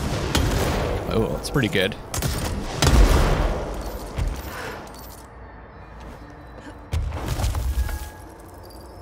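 Service weapon firing in the game Control, a cluster of sharp loud bursts with booms and shattering debris amid game noise, while someone talks over parts of it.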